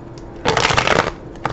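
Tarot cards are shuffled by hand in a couple of close, crisp riffling bursts, a longer papery flutter followed by a short second one, with quiet pauses between.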